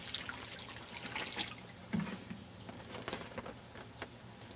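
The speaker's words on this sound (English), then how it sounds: "Let's do a water test and see how well or how fast the water passes through here." Water trickles and drips through a fabric grow bag in soft, close, irregular patters and splashes at low volume.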